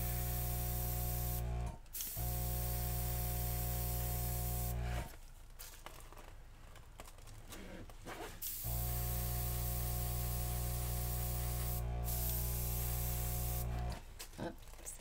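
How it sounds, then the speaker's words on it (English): An airbrush spraying acrylic paint for flowers gives a loud, steady hiss with an electric hum. It cuts out briefly several times, with a longer softer stretch in the middle. "So you get a little better control on the airbrush, the flow of the air."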